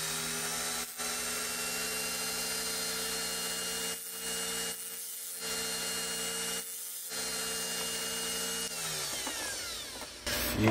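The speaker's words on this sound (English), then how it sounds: "I gotta give it a few more taps on the Dremel" Dremel rotary tool grinding a part during a DIY rebuild of a forged BMW M50 engine, a steady high-pitched whine running almost continuously with a few brief stops before spinning down near the end.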